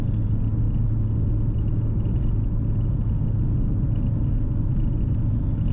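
A VT car cruises at just over 2000 RPM, its engine and road noise forming a steady, deep rumbling drone inside the cabin with no speech.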